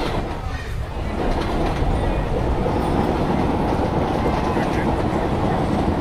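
A WDM3D diesel locomotive hauling a Duronto Express in an Indian train simulator game rolls steadily along the rails, with a loud, continuous rumble and a faint clickety-clack of wheels throughout.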